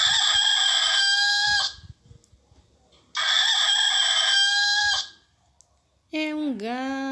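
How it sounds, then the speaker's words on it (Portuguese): A rooster crows loudly and close, two long cock-a-doodle-doo calls with a pause between, followed by a short clucking call at the end. "galo"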